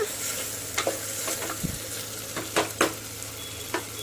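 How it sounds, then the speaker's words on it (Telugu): Moringa leaf curry stirred in a pan with turmeric, a continuous loud frying sizzle broken by several sharp scrapes and taps of a spoon against the pan, close by and without speech. "దీంతో 1/2 స్పూన్ పసుపు వేసుకొని ఒకసారి అంతా కలిసేట్టుగా కలుపుకోవాలండి."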